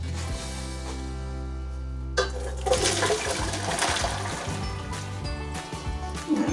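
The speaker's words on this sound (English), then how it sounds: "I'm going to go over to the sink and I'm going to drain that carefully" Hot spaghetti water pours from the pot into a kitchen sink drain, a loud gushing splash starting partway through after a steady hum and continuing to the end.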